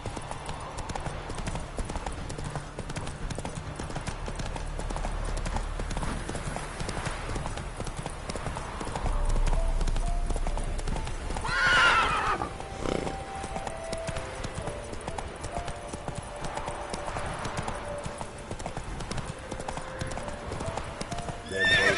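Roach, the horse in The Witcher 3, gallops with a steady clip-clop of hooves throughout and gives a whinny partway, amid game ambience and some speech.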